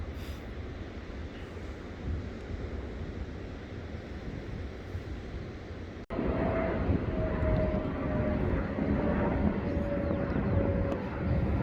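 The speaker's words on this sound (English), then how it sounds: "Plane just coming in." An airliner coming in to land at Newcastle Airport, heard from the coast at South Shields as a steady broadband roar that grows louder partway through, with a faint tonal whine over outdoor wind.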